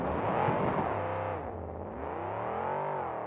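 A monster truck running on a popped, flat tire revs its engine hard while spinning donuts in the center of an arena floor, a loud sustained roar with rising and falling pitch and no pause.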